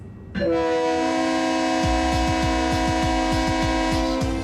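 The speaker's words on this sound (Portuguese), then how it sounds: "O aviso sonoro anuncia a despedida do gigante de aço." A passenger train sounds its horn before departing, a loud sustained chord blaring nearby that begins abruptly and holds steady, while rhythmic wheel clacks over rail joints start beneath it as the train moves off.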